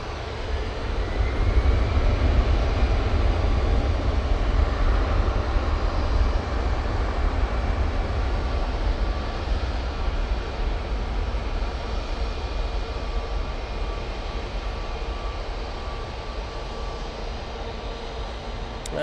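An aircraft approaching Manchester Airport produces a broad, steady jet roar that peaks early and slowly fades, with no voices.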